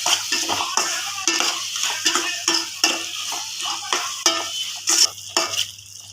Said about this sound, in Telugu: ఇప్పుడు కారం బాగా వేగాలి